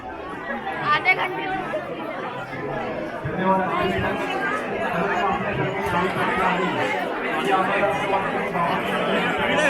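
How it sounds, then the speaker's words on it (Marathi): Large devotee crowd chattering at a Sai bhandara temple feast in Bhandup, Mumbai: a steady, dense babble of many voices, close and continuous, with a nearer voice speaking over it at moments. "प्रचंड गर्दीत ना प्रचंड आपण आतमध्ये आलं आणि खूप तुफान गर्दी आहे"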